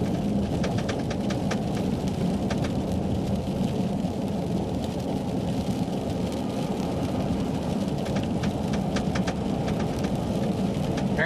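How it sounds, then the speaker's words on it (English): Sleet pelting a car on a snowy road during a winter storm, a steady dense patter like heavy rain on the roof and glass, continuous and fairly loud, with engine and road noise underneath. "Sleet, it just sounds almost like rain,"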